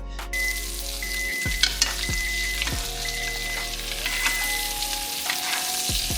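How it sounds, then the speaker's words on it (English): Salmon sears in a pan of avocado oil over medium heat, a steady close sizzle and crackle with occasional pops and spatters, against a low constant hum. "we're gonna sear the salmon on each side for 4 minutes on medium heat"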